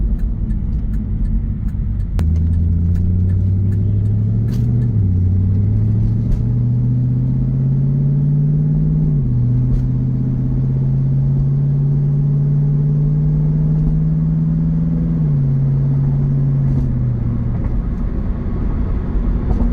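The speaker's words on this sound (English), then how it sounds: "we're going on a quick test drive" A 2002 Pontiac Firebird Trans Am WS6 on a test drive gives off a deep, loud engine rumble that rises through smooth gear changes and then holds a steady cruising drone.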